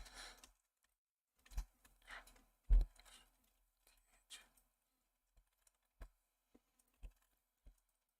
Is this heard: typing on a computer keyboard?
yes